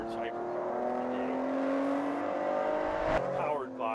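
A Ford GT's 3.5-liter twin-turbo V6 screams at speed on a track, its tone climbing steadily before a sharp shift near the end, loud and sustained.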